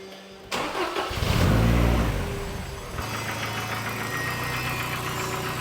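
A Ford Sierra RS500 Cosworth engine cranks and fires, roars up in a loud rev, then drops to a steady, slightly knocking idle close by.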